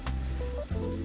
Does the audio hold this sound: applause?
no